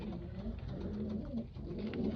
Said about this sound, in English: A real nice pigeon here.